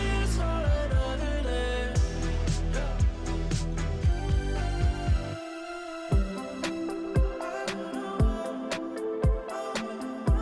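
A DJ track plays with the kick and hi-hat pulled out through stems, leaving a thinner groove of melodic and mid-range parts with sharp percussive hits, moderately loud and steady, with no voices.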